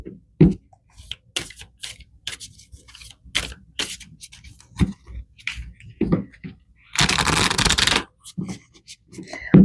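Tarot cards being shuffled and pulled, giving a run of crisp flicks and slaps at an uneven rhythm, close and clear, with a dense riffling burst of about a second near the end.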